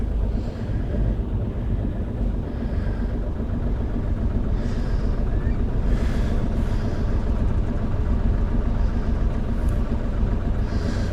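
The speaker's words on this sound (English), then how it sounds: "Increasing the reverse revs." A boat engine in reverse gives a low, steady rumble with constant churning noise and some wind buffeting, holding at a continuous level throughout, at anchor in Chichester Harbour.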